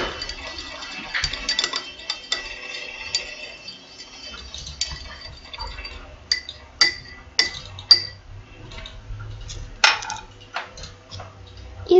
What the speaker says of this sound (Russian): Все хорошенечко перемешиваем.